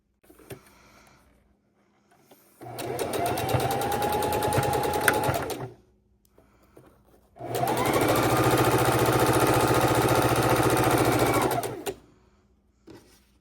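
A sewing machine stitches a quarter-inch seam on patriotic quilt pieces in two long bursts of rapid, even mechanical whirring, close and steady, separated by short quiet pauses with faint handling noises.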